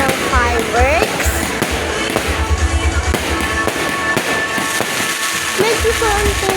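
Fireworks burst over a town plaza in a loud, rapid series of crackling bangs and pops, with whistling rockets rising, and people can be heard talking through the din.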